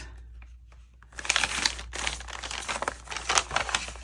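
Paper journal pages are folded in half by hand, a short burst of close crinkling and rustling after a quiet start, with a brief pause and then more crisp paper handling.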